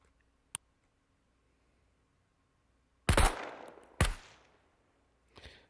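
AK rifle shots in the SCUM survival video game: one sharp crack, a long pause, then two louder reports with short echoing tails and a faint final shot.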